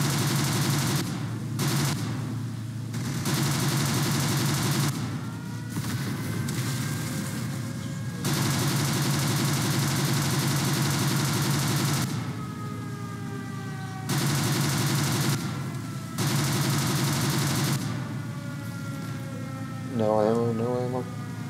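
Rapid bursts of gunfire while shooting down an opponent's plane in the Roblox aerial combat game Wings of Glory, repeated loud volleys over a steady engine drone, with a person talking in between.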